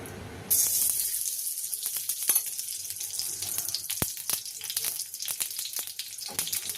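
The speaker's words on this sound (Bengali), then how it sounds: "এই যে ঘিটা কড়ার মধ্যে দিয়ে দিচ্ছি।" Ghee sizzles in a hot kadai, a steady bright hiss that starts abruptly and carries on with small crackles and pops.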